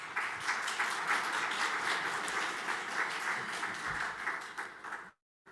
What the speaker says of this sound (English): and if we can have a round of applause for them.